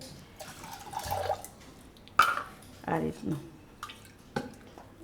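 Water poured from a small cup into a pressure cooker for Gujarati mango kheer, heard as brief splashing and dripping bursts under ongoing speech.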